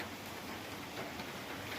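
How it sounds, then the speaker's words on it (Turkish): Steady, soft hiss of light drizzling rain falling outdoors, an even wash of noise with no voices, fairly quiet and constant throughout. "İnce ince çiliyordu ama daha şey yağıyor."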